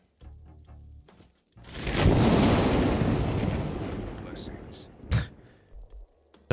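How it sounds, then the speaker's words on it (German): A chain lightning spell cast in the video game King Arthur: Knight's Tale, a loud crackling, rumbling burst that swells and slowly fades, with someone speaking German just before it and sharp crackles toward the end. "Schießen wir einen Kettenblitz hier durch die ganze Suppe."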